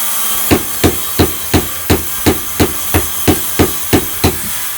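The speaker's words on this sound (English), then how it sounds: "You're doing good with that hammer." Steady hammer blows strike at an even pace, about a dozen sharp knocks roughly a third of a second apart, close and loud over a faint hiss, in a 100-year-old farmhouse.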